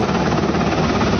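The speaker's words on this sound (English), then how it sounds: "the helicopter comes in" A helicopter roars close and loud with a steady, dense rotor and engine wash that fills the whole moment without any break.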